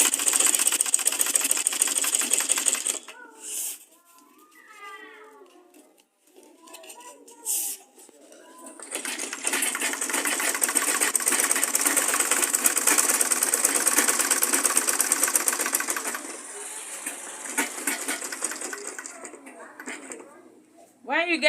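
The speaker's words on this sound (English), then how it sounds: "Continue sewing it till you get to the other edge." A sewing machine stitches a tote bag in long rapid whirring runs, stopping and restarting with quiet pauses between, while a person talks during the breaks.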